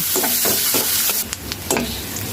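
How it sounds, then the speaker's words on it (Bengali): Chopped onions frying in oil in a pot are stirred, giving a steady close sizzle broken by several scraping stir strokes, with no talk. "পেঁয়াজ কুচিগুলো এবার ভালো করে নেড়ে নিব"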